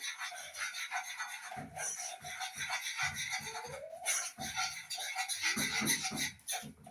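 Steady scraping and rubbing of a utensil stirring flour into melted butter in a pan, rhythmic strokes close up, with a faint sizzle underneath.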